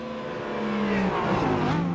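Race cars from Porsche, Mercedes, BMW and Audi run close together at Road Atlanta, engines whining and rising in pitch as the pack shifts and accelerates past, loud and steady.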